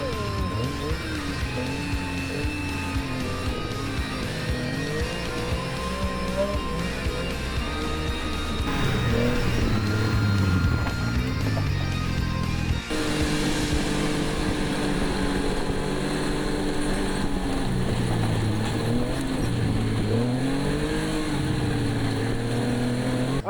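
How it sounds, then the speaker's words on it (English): A big, heavy snowmobile engine drones steadily while riding a trail, its pitch rising and falling with throttle changes, loud and close throughout with wind noise on top. "This is a big, heavy snowmobile."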